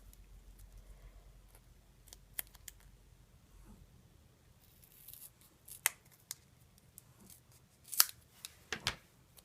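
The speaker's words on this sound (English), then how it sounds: "this foam adhesive is too wide, so we're going to need to trim it down" Scissors trim a strip of foam adhesive tape in a few quiet, separate snips and clicks, with soft handling noises in between and no voices.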